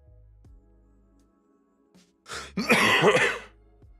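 A single harsh cough or throat-clearing bursts out close up after a quiet moment, brief and forceful.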